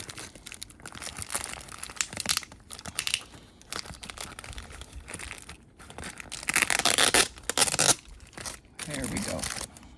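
Taped cardboard packaging for Beyblade UX-06 and UX-07 tops is pried open, with close crinkling, crackling tape tearing and scraping in uneven bursts that grow louder near the end, and a voice murmuring in the background.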